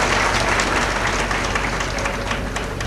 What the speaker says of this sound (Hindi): ताली बजाकर अभिनंदन।